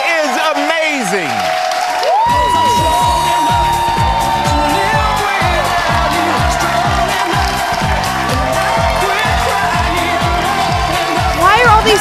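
An audience cheers and applauds for an 11-year-old drag performer on stage, with a loud steady wash of clapping and whoops running throughout while voices and music sit underneath.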